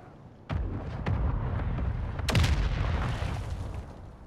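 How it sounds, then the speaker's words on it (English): Mortar strike explosions in Call of Duty: Modern Warfare II, with several heavy booms in quick succession, the biggest a little over halfway through, each trailing into a rumbling roar, and no talking. "Mortar strike inbound now."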